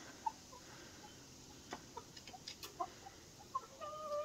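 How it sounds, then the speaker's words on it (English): A chicken perched up on a roof gives a scattered run of soft clucks with short pauses between them. The sounds are faint and a little distant, set against a quiet outdoor background. "Hey, chicken, chicken."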